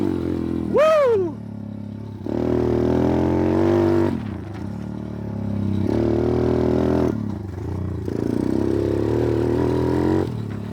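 A pit bike engine fitted with a Flatout Racing dirtbike kit runs loud and close while being ridden, a rising rev at the start, then steady buzzing drone with surges and dips between gears.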